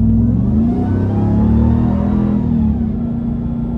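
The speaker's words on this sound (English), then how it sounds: "So starting the test drive in this Ram TRX," A 2024 Ram TRX pickup's powerful engine drones loudly and steadily during a road test drive, its deep rumble rising gently in pitch as the truck pulls along, with no talking.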